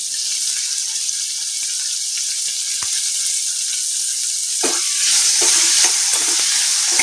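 Chopped onion and tomato fry in a pan for a Shimla mirchi (capsicum) bhaji, giving a steady loud sizzle with scattered stirring clicks; the crackle sharpens and brightens near the end as fresh moisture hits the hot oil.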